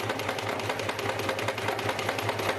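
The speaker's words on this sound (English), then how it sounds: "It's a sewing machine." A sewing machine runs steadily at close range, its even mechanical whir and rapid stitching pulse holding constant throughout with no voices.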